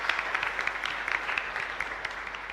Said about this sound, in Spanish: Fuerte aplauso para nuestra comunidad entonces.